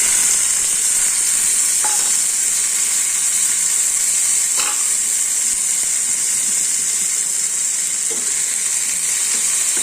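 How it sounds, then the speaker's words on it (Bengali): Raw mango pieces frying in a pan after tempering spices, for a green mango chutney: a steady, loud sizzle and hiss throughout, with a few brief clinks of a utensil, no voices. "এরপর আমি কাঁচা আমগুলো ঢেলে দেবো।"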